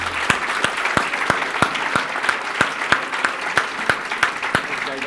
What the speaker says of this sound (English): Everybody give Dan Holloway a big round of applause